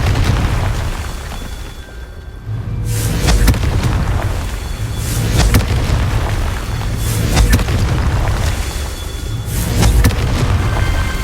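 Confringo blasting spell explosions in Hogwarts Legacy: a series of heavy booming blasts roughly every few seconds, loud and close over a rumbling, crackling game soundscape.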